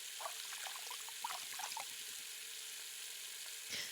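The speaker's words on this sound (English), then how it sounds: "I cup my hands and put them under the gushing stream" Water gushing from a tap in a video game, a steady hissing, sizzling stream with small irregular splashes and trickles, close and continuous, with no voices.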